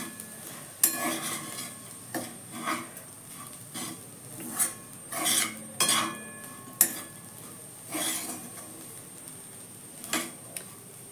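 Bitter gourd sabzi being sautéed in a pan, with a spoon repeatedly scraping and clinking against the metal in irregular bursts over a low background hiss, close and moderately quiet, with no talking.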